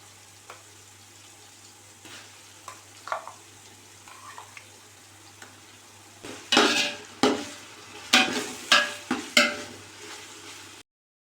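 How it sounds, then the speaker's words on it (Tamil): Ginger garlic paste sautéing with onions in a pan for biryani, with soft sizzling early on, then a run of loud scraping and clanking stirs in quick bursts near the end; no talk. "இஞ்சி பூண்டு நல்லா பச்சை வாசனை போகிற அளவுக்கு வதக்கிக்கோங்க."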